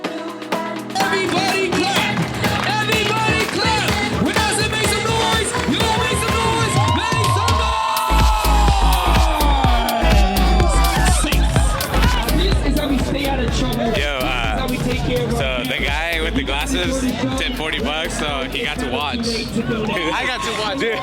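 A downtown Las Vegas First Friday street crowd cheers and shouts in a dense, continuous roar, loud and close, with people talking and calling out over it throughout.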